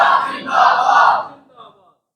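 A crowd at a Shab-e-Barat religious gathering shouts a slogan in unison, one loud sustained collective cry that swells, holds for about a second and fades, with no single voice leading during it.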